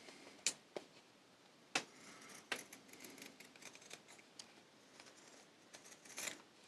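Scissors trimming the curved bottom corners of fabric for a coin purse, a few faint, sharp snips spaced irregularly over quiet room tone, close by.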